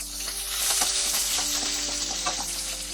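Fennel seeds, dried red chillies, green chillies and curry leaves sizzle in hot oil for chicken 65, a dense steady hiss close up with repeated scraping stir strokes throughout.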